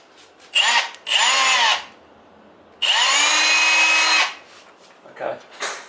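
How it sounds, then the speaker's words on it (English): Power drill boring a pilot hole while mounting a fixture, two close, loud bursts of whining spin separated by a pause, then brief handling noises. "pilot drill the hole"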